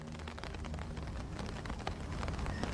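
Steady rain falls on a river at night, a soft, even hiss of drops with no voices, holding at a low, constant level throughout.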